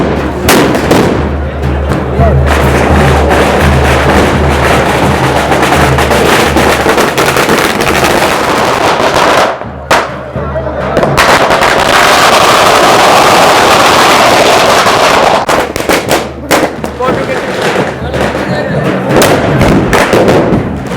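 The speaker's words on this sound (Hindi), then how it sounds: "देखिए कितने बम फूट रहे भाई साहब" Loud, dense firecracker and bomb blasts at the Barood ki Holi festival in Menar village, with continuous booming thuds and crackling close by, heavy wind buffeting, and a brief lull near the middle before the barrage resumes.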